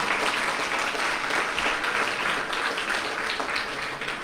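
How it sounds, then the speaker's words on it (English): Steady applause from an audience at a library's 150th anniversary celebration, a continuous dense clapping that holds at an even level throughout without any speech. "Let's give them a big round of applause."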